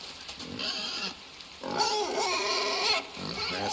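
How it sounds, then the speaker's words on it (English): A pig in the video game Inside grunts and oinks in a few short bursts, close and fairly clear, with quiet gaps between calls. "Nasty pig."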